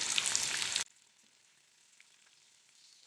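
Chicken pieces frying in hot oil for a KFC-style zinger burger, a loud dense sizzle for under a second that drops abruptly to a faint crackle, then swells loud again at the end.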